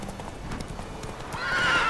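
Roach the horse galloping in The Witcher 3, with a quick run of rhythmic hoofbeats clopping close by and a whinny rising toward the end, all fairly quiet.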